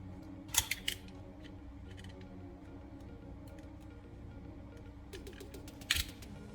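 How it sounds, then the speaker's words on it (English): Scissors snip the braided shield of a coaxial cable, a couple of crisp close cuts near the start and another pair near the end over a quiet room, with no talk. "I peel that back and trim it away cleanly so the copper core is free."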